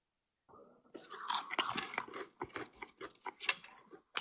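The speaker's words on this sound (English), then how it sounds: "You can hear me chew." Someone chewing and crunching food right up against a microphone, a run of moist, irregular bites and mouth clicks that start after a short silence and keep going, close and dry, with no speech.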